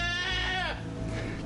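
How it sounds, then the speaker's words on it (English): A goat bleats loudly and close by, one drawn-out wavering cry, as it stands with its head tangled in brambles on a Fijian island. "There's a goat here."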